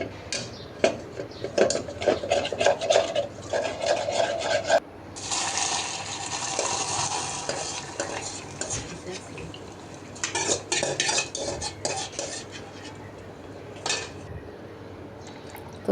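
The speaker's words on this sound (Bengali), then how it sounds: "এখন দুধ আর ডিমের মিশ্রণটা ঢেলে দিলাম" Milk and egg mixture poured into a large soup-bowl-like cup holding caramel, with clinks of dishes and utensils, a soft liquid pour in the middle, then more clattering, close and fairly quiet.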